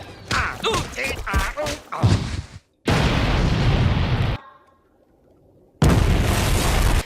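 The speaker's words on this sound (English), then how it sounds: "Squidward explodes like every other episode in a gigantic mushroom cloud" A huge cartoon explosion from SpongeBob SquarePants, with Squidward blowing up into a gigantic mushroom cloud, comes as loud roaring bursts of noise separated by brief silences after some opening sounds.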